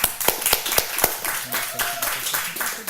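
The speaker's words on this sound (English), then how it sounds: "So how about a nice round of applause for Dara?" An audience at a television show applauds a dancer. A few sharp, loud claps come first and thin into softer scattered clapping, with faint voices and a brief tonal sound partway through.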